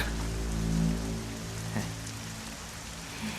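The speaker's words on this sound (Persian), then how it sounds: "دیوانه باران." Rain falls steadily as a dense hiss of drops on a surface, with a low rumbling hum underneath and no voices.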